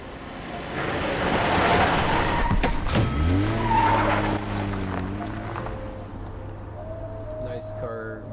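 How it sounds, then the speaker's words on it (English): Car tires squealing and skidding in the driving video game Road 96, a loud sustained screech with a rising, wavering whine as the car slides and settles. "Nice car wheel sounds."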